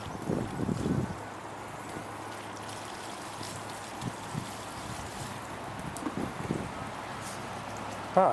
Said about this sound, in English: Ah, good, the rain has slowed way down.